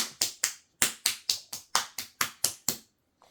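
A person nearby claps their hands about a dozen times in an irregular rhythm to encourage a baby eating homemade carrot and potato puree. The claps are crisp and sharp in a quiet room.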